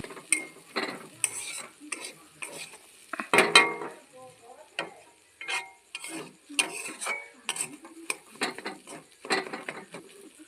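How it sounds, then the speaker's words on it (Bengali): Khesari dal chachchari is stirred in a pan after oil is added, with a spoon giving repeated close scraping and clinking strokes in an uneven rhythm, steady and fairly quiet. "তেল দেওয়ার পর গাইস দেখো ভালো করে নাড়লাম।"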